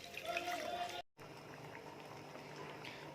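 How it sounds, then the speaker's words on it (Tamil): Cut carrots simmering in a pot of water on the stove, a steady close bubbling and hissing broken by a brief gap before the boil resumes. "அதில் கொஞ்சம் தண்ணி ஊற்றிட்டு வேக வச்சுக்கலாம்"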